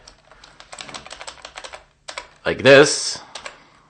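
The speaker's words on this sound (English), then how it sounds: "just smash my keyboard" A computer keyboard is typed on rapidly in a burst of dense clicking keystrokes, close and crisp, followed by someone speaking briefly and a few more key taps.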